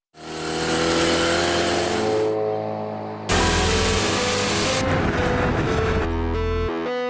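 Turbocharged Mazda RX-7 rotary with a Microtech LT10S engine management unit and turbo-back exhaust, revving hard in bursts. Loud, rising harmonic engine tones change pitch across several gear-like steps, with no talk over them.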